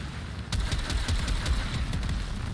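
A mortar-style gun in Warframe fires a rapid string of thumping shots after a brief lull, each blast punchy and close, repeating in a quick regular rhythm without any talking.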